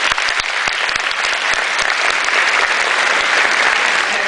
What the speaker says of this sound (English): y'all give Mr. Wilson a round of applause, please.